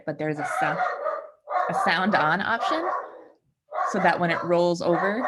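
A dog barks repeatedly at close range, mixed in with a person talking steadily over it, with a short pause between bursts.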